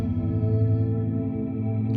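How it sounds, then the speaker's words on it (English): An Empress Zoia pedal runs a sound-on-sound patch with diffusers, playing one 8-second loop through two loopers as a steady, dense, layered tonal drone that holds evenly throughout without talk. "this is just a single 8-second sound on sound loop with 2 loopers."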